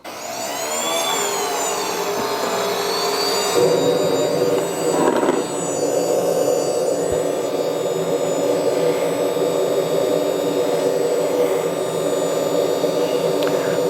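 A small RC model jet turbine on a CARF Rebel Classic aircraft whines up with a rising tone on first startup, then settles into a loud, steady roaring hiss close by.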